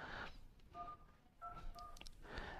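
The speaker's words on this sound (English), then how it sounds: "Let me try to dial some other number." Dialer keypad tones on a Poco X3 Pro running Superior OS (Android 13): a few short, clear beeps spaced irregularly, close and fairly quiet against a faint background.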